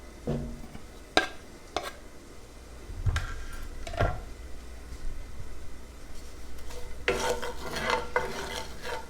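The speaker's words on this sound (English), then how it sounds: "Get the slightest hint of a sizzle." A faint sizzle rises in a pan, with a few scattered clanks and scrapes of a utensil, frying growing louder toward the end.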